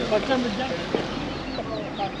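Chickens cluck and a rooster calls at a busy outdoor poultry market in Taşköprü, Kastamonu, Turkey, with people talking nearby throughout.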